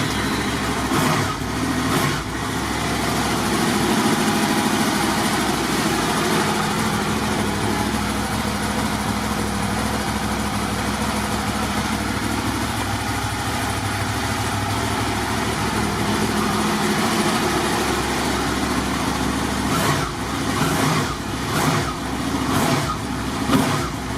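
Motorbike engine turned over and left idling, a steady close rumble running the whole time with a few brief revs or knocks near the start and end.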